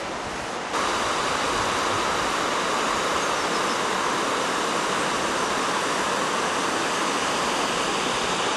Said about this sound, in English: We're heading down this little path now to have a look at the river Vienne again.